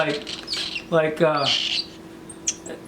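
A six-week-old Triton cockatoo chick gives several loud, raspy squawks close by, a couple of long harsh cries followed by shorter calls, with a person speaking faintly.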